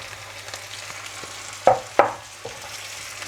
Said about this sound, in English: so now we'll add the corned beef